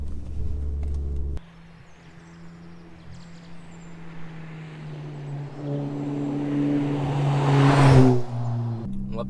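Engine of a Volkswagen Golf 7 GTI Performance while driving, a steady low drone that gradually swells and builds toward a louder peak near the end, heard alone without talk.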